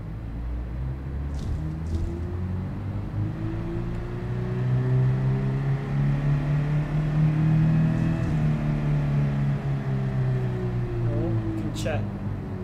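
Car engine in the Gran Turismo video game, driven with a manual clutch, droning and revving in a steady rising-and-falling pitch that swells in the middle and then eases, with talking over it.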